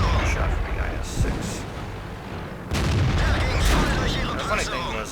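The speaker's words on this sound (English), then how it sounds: "Shot from the IS-6." IS-6 heavy tank main gun firing in a tank game, a sharp loud blast partway through with a rumbling tail, amid battle noise and a voice talking.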